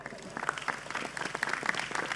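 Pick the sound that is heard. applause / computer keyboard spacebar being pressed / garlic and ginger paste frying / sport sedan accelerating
applause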